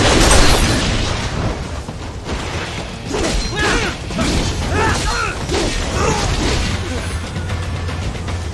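Bursts and booms erupt during a hack-and-slash fight in Metal Gear Rising: Revengeance, a run of sharp explosive pops and whooshing impacts over game noise, with excited voices talking over it.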